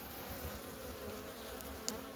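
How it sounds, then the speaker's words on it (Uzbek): Honeybees buzzing inside a beehive make a steady, dense hum that holds at an even level for the whole stretch, with no voices. "mana bu tarafda yurgan arilar tepaga chiqadi"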